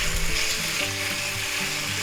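Spicy beef and vegetable stir-fry with mushrooms being stirred in a hot pan, a loud, dense sizzle filling the whole stretch with soft stirring movements beneath it, close up and without speech.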